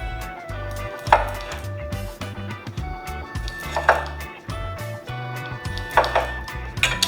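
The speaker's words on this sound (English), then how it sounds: "So just gonna cut those limes in half." A knife cuts limes in half on a cutting board, giving a few crisp chopping knocks spaced several seconds apart over faint background music and light handling noise.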